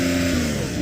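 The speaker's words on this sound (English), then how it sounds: "So I'm going to rev up this turbo." Under a second of a Porsche 911 Turbo S engine revving, a steady sustained mechanical drone holding one pitch, loud and continuous without a break.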